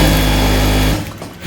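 Sewing machine stitching a tote bag handle, running as a loud, close, steady whirring drone for about a second before stopping.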